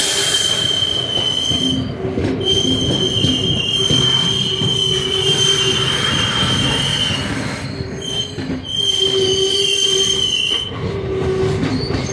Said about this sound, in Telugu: ట్రైన్ అనేది స్టేషన్లోకి ఎంటర్ అయిపోయింది